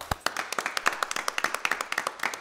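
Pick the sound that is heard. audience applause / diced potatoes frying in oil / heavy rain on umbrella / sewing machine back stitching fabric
audience applause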